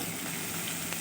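Green peas frying in hot oil with a little crushed ginger and garlic, a steady close sizzle and crackle throughout with no voices.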